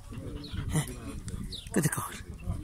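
A small dog whimpers softly with a couple of short high whines, close by, while a person speaks quietly in the background.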